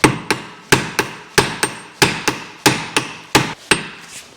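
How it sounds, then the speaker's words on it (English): Sharp hammer blows ring out one after another, about a dozen evenly spaced metallic strikes on a differential of a BMW E46 330ci, loud and close with no speech. "install it, and then simply smack it with a hammer"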